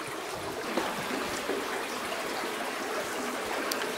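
Low-flowing stream running over rocks inside an active cave, a steady soft trickle and babble of water, close and alone without speech.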